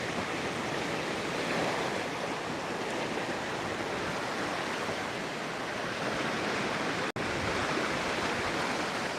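Ocean surf washing steadily onto a sandy beach, a continuous loud broadband roar with a brief cut near the end, no voices.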